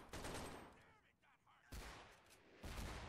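Tank firing its guns in Garry's Mod during a SWAT versus zombies battle, heard as dense, loud bursts of rapid gunfire and booming blasts, with heavy volleys at the start, then around two and nearly three seconds.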